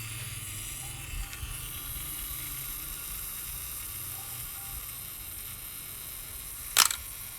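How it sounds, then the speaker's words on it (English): An Exakta RTL1000 SLR camera fires its shutter once at 1/1000 speed, giving a single sharp, close mechanical click against a quiet background hum. "Alright, so it fires."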